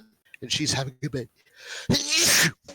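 A single loud, sharp human sneeze bursts out near the end, right after a man's brief speech.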